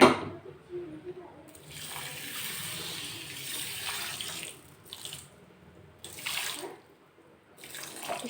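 Water runs from a tap into a pan of sugar for syrup, in a few bursts, a steady gushing pour broken by short pauses.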